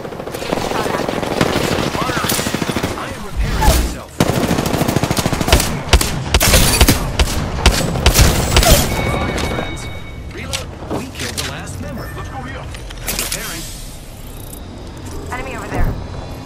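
Dense bursts of automatic gunfire and single shots crackle loud and near throughout an Apex Legends firefight, with heavy booms mixed in and voices speaking over the shooting.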